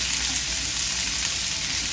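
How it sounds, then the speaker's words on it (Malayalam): Three sliced onions sautéing in a pan for an egg curry, a steady, loud, close sizzle of frying that continues evenly throughout with no talking. "ഇനി ഇതിനകത്തോട്ട് ഒരു 3 സവാള അരിഞ്ഞത് അത് ഇട്ട് കൊടുക്കാം. ഇതെല്ലാം നല്ലതുപോലെ ഒന്ന് വഴറ്റിയെടുക്കാം."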